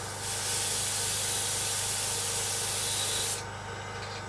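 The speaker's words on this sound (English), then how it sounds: "apply varnish to the last small areas of the model." Varnish is sprayed onto the last small areas of a model aircraft held on a toothpick, giving a steady close hiss that runs for about three seconds, then cuts to a quieter background hum.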